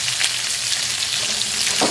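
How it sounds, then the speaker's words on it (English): Fresh sage leaves frying in a pan, a steady close crackling sizzle with small pops, alone without talk. "I'm just frying up these fresh sage leaves"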